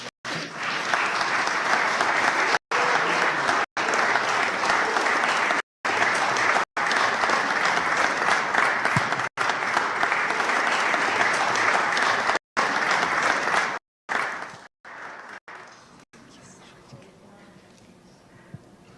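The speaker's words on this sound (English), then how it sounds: "Give her a wonderful hand clap." Sustained, loud audience applause at an interfaith conference fills the room, with brief breaks before it thins out and fades near the end.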